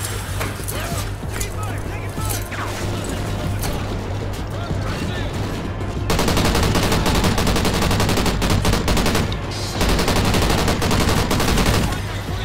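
Continuous rapid gunfire and automatic bursts in the shooter Call of Duty: Ghosts on the Atlas Falls map, loud and sustained, with people talking over the shooting.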